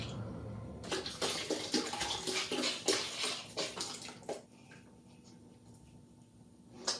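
Liquid pottery glaze pours and splashes over the outside of a ceramic piece for several seconds, a close, steady watery rush that then drops to quiet trickling.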